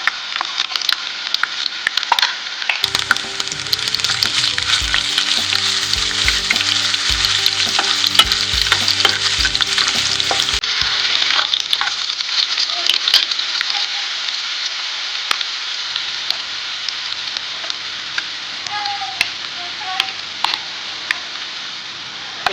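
Garlic fries in hot oil for ghol bhaji, a steady close sizzle with stirring scrapes and crackles throughout, a low rhythmic hum running beneath for part of it, no talk.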